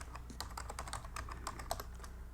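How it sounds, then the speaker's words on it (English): Fingers type on a computer keyboard while text is entered in Microsoft Word, a quiet, steady run of soft key clicks over low background hum. "After typing the watermark, press Ctrl A to select the watermark"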